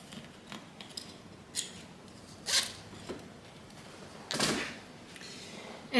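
Zipper pull being slid onto a bag zipper while sewing a handbag, a few short scratchy zips and clicks spaced out across near-quiet, close and soft.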